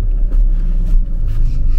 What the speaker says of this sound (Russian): Так, ладно, сейчас перепаркуемся